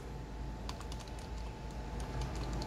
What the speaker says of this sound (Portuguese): Vamos ver se ela responde o teclado.